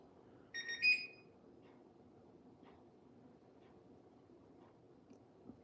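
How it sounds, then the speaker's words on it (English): A new Siemens machine, likely a washer or dishwasher, gives a short run of bright electronic beeps as its cycle finishes, clear over a low background hum before settling to quiet. "The beeping is the same."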